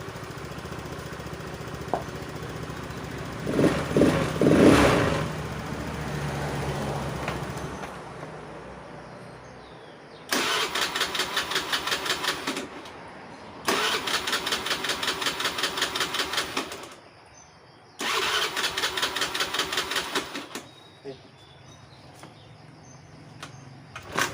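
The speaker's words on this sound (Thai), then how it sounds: "สตาร์เท้านะครับ" A Honda Scoopy-i scooter is kick-started by foot; a loud burst of engine noise is followed by alternating stretches of steady, rapid idling and quieter pauses, heard close with no talking.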